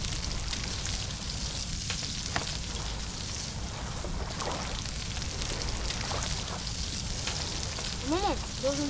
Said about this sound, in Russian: сейчас рака пожарим